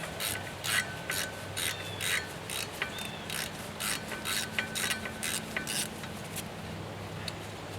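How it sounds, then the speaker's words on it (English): A ratchet clicks steadily while someone undoes the fine-thread drive shaft bolts on a 1968 Chevy truck during a frame strip-down. Quick close bursts of ratcheting repeat over a low workshop hum, with no speech. "Just have to undo the drive shaft from here."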